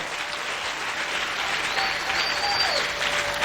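A church congregation breaks into loud, sustained applause that fills the room evenly for a few seconds, with a faint tonal ring above the clapping.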